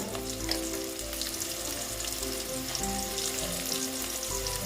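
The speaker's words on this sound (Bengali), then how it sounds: "একটু আলুগুলো আমি ভেজে নেব" Potatoes dusted with turmeric fry in a pan, giving a continuous even sizzle with a faint steady hum underneath and no voices.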